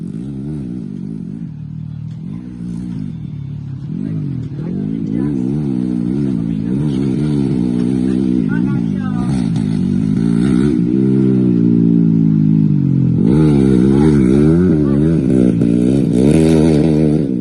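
A motocross motorcycle throttles on a dirt circuit at Sircuit Alamta Jaya. The engine note swells and falls continuously, loud and close, through repeated rising and easing revs.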